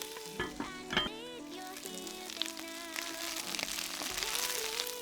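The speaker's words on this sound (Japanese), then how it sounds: "フライパンに米油を熱したら、ニンニクを入れ、青菜の茎の部分を入れます。" Greens with garlic stir-frying in rice oil in a frying pan, a bright steady sizzle with scraping strokes of a utensil and clinks, close up, with no talk over it.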